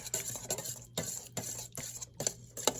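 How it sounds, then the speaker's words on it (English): A spoon stirs Bloves sauce mix into clarified butter and Frank's Red Hot Sauce in a bowl, making quiet, rhythmic scraping strokes about twice a second, close up, with no voices. "I'm just going to mix this together"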